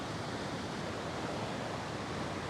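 Rainwater pouring off a hillside during a heavy storm and running into a newly formed creek, a steady, dense rushing wash with no pauses and no voices.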